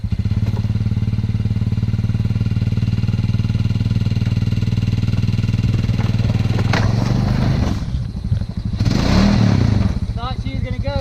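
A Honda Pioneer 500 side-by-side drones loudly and steadily as its engine works to spin the wheels in place on a warm winter day, then briefly surges and rises near the end.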